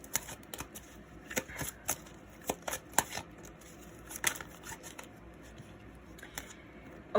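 Tarot cards being shuffled by hand, a soft, irregular series of quick riffling flicks and taps, close but quiet, with no talking over them.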